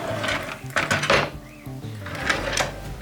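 A drawer on a nail desk holding nail files and sanding supplies slides open or shut, giving a few close, soft wooden thuds and scrapes over a quiet room.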